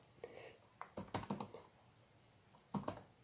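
Keyboard typing by a beginner on a computer keyboard: a few short bursts of quick, light key clicks, near and fairly quiet, with pauses between them.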